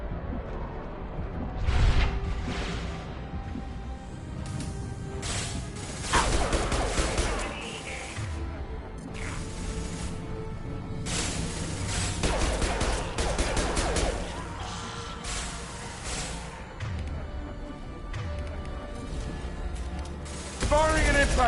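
Bursts of gunfire from a Mass Effect 2 battle, rapid automatic fusillades and sharp impact shots with mechanical clatter, spaced in clusters across the scene over a low background hum.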